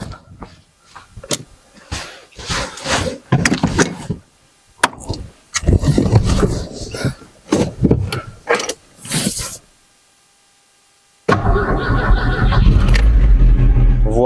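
A 2.0 C20NE engine in an Opel Omega A, fitted with a replacement hot-wire mass airflow sensor, fires up after a brief silence. It settles into a steady, close idle, following an earlier stretch of voices and clunks.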